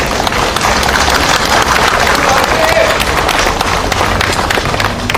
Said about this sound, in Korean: 뜨거운 격려의 박수 부탁드립니다